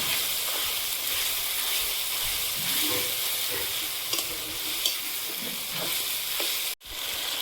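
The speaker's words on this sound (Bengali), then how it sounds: "চিকেনটা এবার একটু রান্না করে নেব।" Chicken sizzles steadily in a pan with onion and ginger-garlic paste for a chicken biryani, a loud continuous frying hiss broken by occasional stirring scrapes and clinks, with no voices.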